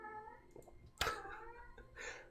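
A cat meows a few times nearby, short tonal cries with a louder one in the middle, quiet and alone without talk.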